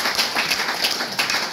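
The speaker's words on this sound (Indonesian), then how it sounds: "Tepuk tangan dulu buat Tuhan." A church congregation applauding for God during a Pentecost sermon, steady crowded clapping with uneven bursts throughout, no talk over it.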